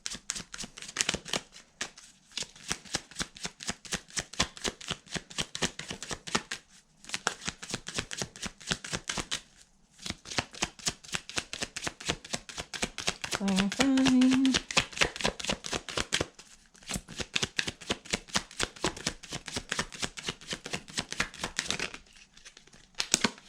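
Tarot or oracle cards being shuffled during an intuitive chakra reading, a long run of quick riffling bursts with short pauses between them, close and fairly loud with no talking.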